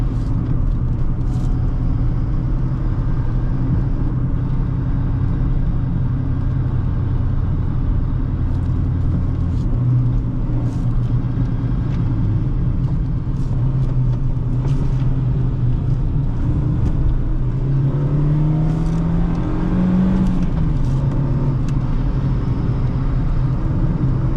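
A 2008 Honda Fit driven at light 10% throttle, its engine a steady low drone inside the cabin with road rumble, rising in pitch briefly near the end, with no talk.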